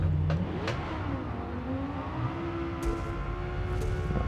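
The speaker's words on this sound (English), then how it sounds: "Growling V10, just ready to go." A Lamborghini Huracán STO V10 engine in Forza Motorsport revs steadily, its pitch climbing in a long, growling sweep with a couple of sharp blips, loud and close.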